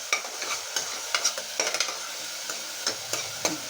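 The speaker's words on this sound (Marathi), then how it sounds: "आता याला थोडंसं छान असं हलवून घ्यायचं आणि थोडंसं शिजू द्यायचं याला कमी कमी गॅसवर" Spice paste stirred in a pan over low gas while making a brinjal vegetable dish, with scraping strokes of the spoon, soft sizzling and occasional light clinks against the pan, close and alone.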